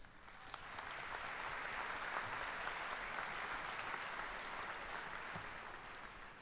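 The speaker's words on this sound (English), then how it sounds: "Well, thank you for that kind applause" A large audience applauds at the SIUE 2015 spring university commencement ceremony, a steady, distant wash of many hands clapping that holds evenly for several seconds without voices on top.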